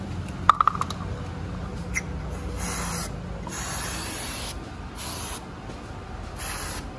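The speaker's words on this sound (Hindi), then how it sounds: "तो चलो अभी स्प्रे रखा है तो स्प्रे को अंदर मार देते हैं।" An aerosol spray hisses inside a fan in a steady, continuous stream, with a few small clicks at the start and a faint pulsing texture throughout.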